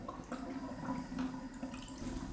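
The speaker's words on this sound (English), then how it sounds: "And then I'm going to let it drain" Water drains steadily from a basin after a delicate, roughly century-old Hungarian blouse is hand-washed, a soft continuous gurgle and trickle close by with no talking.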